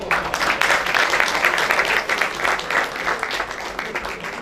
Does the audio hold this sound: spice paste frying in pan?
no